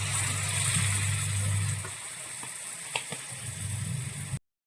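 Fenugreek and spices roasting in a hot pan for a homestyle bitter gourd pickle: a continuous close sizzle with a few light clicks and scrapes, cutting abruptly to silence near the end.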